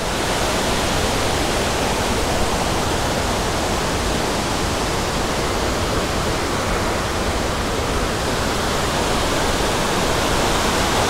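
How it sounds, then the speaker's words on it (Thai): Mae Ya waterfall in Chiang Mai, Thailand, roars steadily throughout, a dense, loud wash of falling water with no pauses or other sounds. "อันนี้ราชินีแห่งน้ำตกนะครับสำหรับน้ำตกไม่ยะ"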